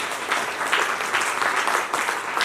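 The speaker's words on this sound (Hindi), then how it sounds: "ताली बजाइए सोनू जी के लिए।" An audience claps steadily for Sonu ji at the Udaan 2025 event, a dense, even round of applause filling the room without pause.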